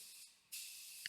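A Devilbiss FLG-5 spray gun sprays primer onto repair areas of a Subaru Impreza at full fan and full fluid, about 25 psi: a brief hiss, a pause, then a steady close airy spray.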